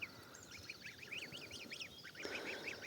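Geese and turkeys feeding on grain in a yard, with a steady run of repeated nasal honking and gabbling calls from a nearby flock over a rustling, scratchy ground noise.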